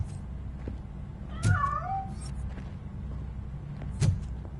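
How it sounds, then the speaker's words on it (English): A cat in RoboCop: Rogue City lets out a short, wavering meow, and a faint thump follows a few seconds later over a low hum in the background. "That cat must be hiding inside."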